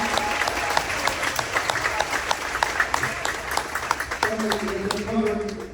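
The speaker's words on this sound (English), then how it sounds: "Give him a round of applause." A crowd applauds steadily throughout at a school fall sports event, dense clapping close by, with a voice speaking over it near the end.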